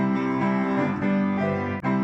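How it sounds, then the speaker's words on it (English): A few chords on an acoustic piano, recorded close on a phone with a slightly boxy, thin tone and a little room sound. "They actually recorded on my phone in our acoustic piano next door."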